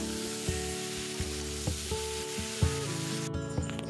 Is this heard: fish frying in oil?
yes